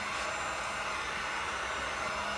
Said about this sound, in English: dryer thing, heat gun.